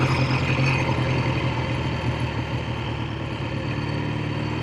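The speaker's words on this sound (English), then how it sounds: "The motor runs very well" A 1965 Triumph T100 SR motorcycle engine runs steadily at close range, a loud, even rumbling drone with a throbbing low pulse and no talking.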